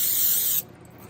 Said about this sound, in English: So I'm going to spray some here.